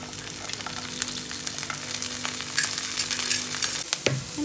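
Onion sizzling in hot oil in a pan with three slit green chillies, a dense steady crackle with scattered sharp pops and some stirring scrapes near the end; no voices.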